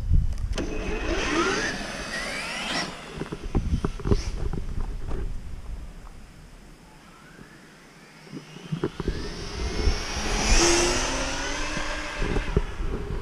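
A car accelerates hard in second gear up to about 40 mph, the engine revving up loudly, easing back to a quieter lull, then climbing again in a strong, close rising roar.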